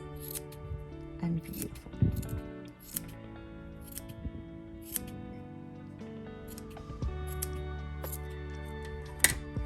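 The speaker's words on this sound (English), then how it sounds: "So I'm going to do a few more trims of these long bits" Scissors snip through pom-pom yarn in a series of sharp, close cuts spaced irregularly, while a person talks briefly in between.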